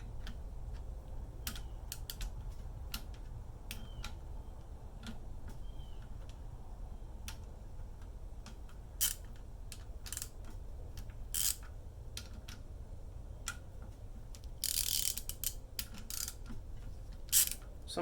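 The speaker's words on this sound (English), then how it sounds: "It's just a wiggle joint socket wrench ratchet" Socket wrench ratchet clicking in short bursts while loosening rocker arm bolts on a Mazda B2000/B2200 valve train, sharp scattered ratcheting clicks near the microphone over a low steady background hum.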